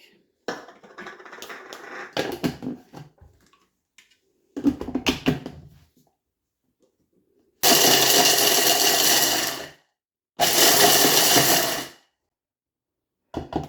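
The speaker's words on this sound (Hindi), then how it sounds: "ये मैंने ले लिया चॉपर, आप कोई भी ब्लेंडर जग या जो भी आपके पास मौजूद हो वो ले सकते हैं।" After some rattling and handling noises, an electric chopper chopping almonds whirs loudly in two bursts of roughly two seconds each, with a pause between.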